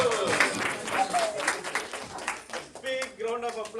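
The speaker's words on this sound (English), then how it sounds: "Big round of applause to all the kids, please." An audience applauds the kids at a devotional session in a cultural center, a busy patter of claps mixed with cheering voices and chatter throughout.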